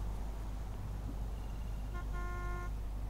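Faint traffic rumble in the video game American Truck Simulator, then a short blare of car horns honking together near the end.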